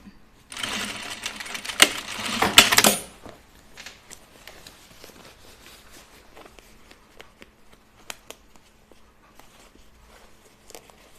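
A sewing machine runs in a loud, fast burst of stitching for about two seconds while a garment is re-sewn, then stops, leaving faint handling clicks and taps.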